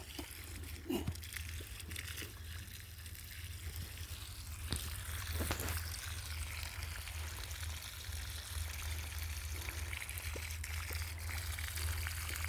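Water trickles and pours steadily outdoors, fairly faint, over a low constant hum.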